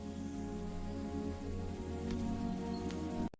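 Steady rain patters on a surface in a children's jungle story, an even, soft hiss of drops throughout with a few faint tonal notes beneath, ending abruptly; no one speaks.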